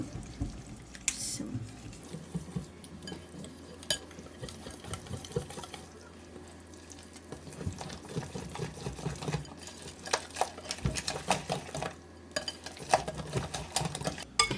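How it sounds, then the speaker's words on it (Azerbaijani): Flour and salt are stirred into yogurt by hand in a home kitchen, giving soft irregular scraping and sloshing strokes with occasional clinks against the bowl, close and fairly quiet. "Sodanı hələ əlavə etmirəm. Çünki bunu qatışdıram yaxşıca qatıqla."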